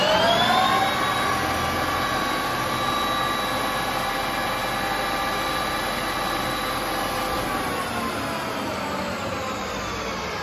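A Clausing 2500 lathe runs at high speed, a loud, steady motor and spindle whine with sustained high tonal harmonics that ease slightly toward the end, no talking.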